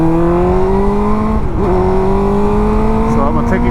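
Suzuki GSX-R600 sport motorcycle pulling away in first gear, its engine note steady and loud and rising slowly in pitch, with a brief dip and shift partway through, close to the mic.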